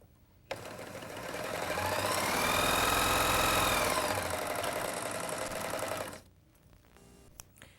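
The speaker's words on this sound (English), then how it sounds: "just take a couple stitches, pull straight back off the stitch finger, and just bring it around and stitch over your previous stitching" A Viking Huskylock 1002LCD serger runs in one continuous burst of whirring stitching over previous stitching, rising in speed and pitch, then stopping abruptly, with quiet room sound before and after.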